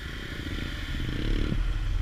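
A trail motorcycle rides into a muddy river on the Hambalang–Cisadon route, a loud, steady engine rumble with churning, clattering noise that swells toward the end, close and continuous with no talking.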